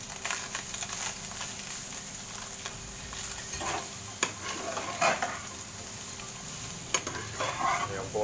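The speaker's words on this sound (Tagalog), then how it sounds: "So after ng bawang, tsaka onion, susutain na natin yung pork lungs, pork heart" Pork lungs and heart sauté in a pan with garlic and onion, a quiet continuous sizzle broken by occasional stirring scrapes and clinks of a utensil against the pan.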